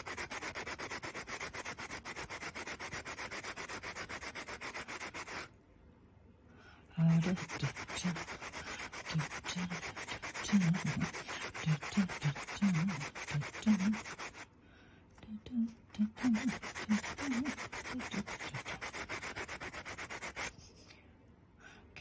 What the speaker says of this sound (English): so let's sand this plane just the same way